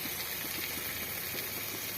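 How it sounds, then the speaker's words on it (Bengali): Hot water goes into a simmering boal fish curry with potatoes, producing a steady, dense bubbling and pouring hiss that stays constant and close throughout, with no voices. "এবার আমরা এর মধ্যে গরম জল অ্যাড করে দিলাম।"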